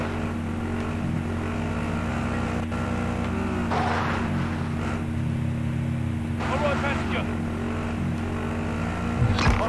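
A car is driven in Warzone, its engine droning steadily and revving throughout, with periodic bursts of gritty surface and tire noise over the continuous hum.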